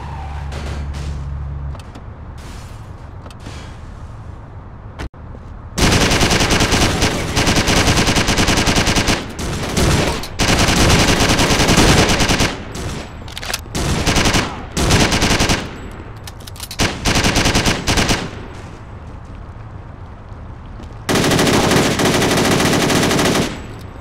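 Gunfire in the Driv3r video game, with loud, dense bursts of automatic fire and shots repeating across long stretches between short quieter gaps, along with car and siren sounds.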